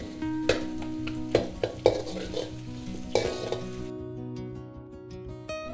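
Onions and capsicum with ginger sauté over high heat in a pan for chilli chicken, a bright close sizzle broken by several sharp spatula scrapes and clinks, then the frying cuts off abruptly.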